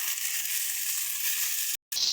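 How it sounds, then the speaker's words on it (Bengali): Steamed taro stems fry in hot oil with cumin seeds, giving a continuous, close, even sizzle that cuts out briefly near the end and then resumes. "সুন্দর করে কাটিটাকে ভেজে নেব।"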